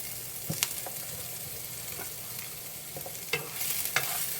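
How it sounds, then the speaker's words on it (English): Butter sizzles in a pan while cabbage cooks, a soft, close crackling hiss broken by a few clacks and scrapes from stirring. "at this point I'm going to add in some butter."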